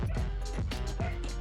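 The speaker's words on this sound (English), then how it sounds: "you can hear my dogs barking in the background." Dogs bark repeatedly in the background during a home HIIT workout, a series of short yelping bursts under steady room noise.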